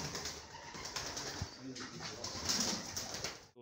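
King pigeons at a pigeon farm coo softly and repeatedly close by, with faint rustling and some background noise around them.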